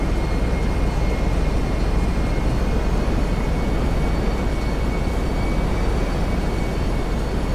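A plane in GTA 5 taxis through a slow turn, giving a loud, steady broadband engine roar with a faint high whine, unbroken and alone for several seconds.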